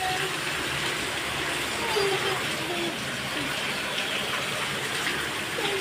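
Steady rain falls outdoors near a house gate, a continuous wet hiss under occasional faint voices.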